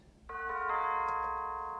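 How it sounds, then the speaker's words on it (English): A bright bell tone rings out in a song intro, its mids and treble boosted and its lows cut, with a second chime layered in and long sustain. "So yeah, those are the bells."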